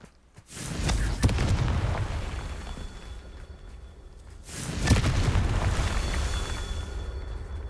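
Two big blasts from the Confringo spell in the video game Hogwarts Legacy, each a loud boom followed by a long rumbling roar, the second arriving about four seconds after the first, with no voices over them.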